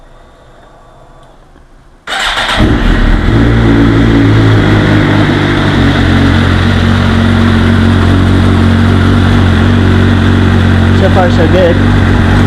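A 2009 Suzuki GSX-R 750 motorcycle engine fires up after a couple of quiet seconds, then settles into a loud, steady, close idle, with a voice speaking briefly over it.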